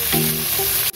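Onions for Gobi Manchurian hit hot oil in a pan with a loud, steady sizzle that stays close and continuous, a brief stirring tone on top before a short drop at the end.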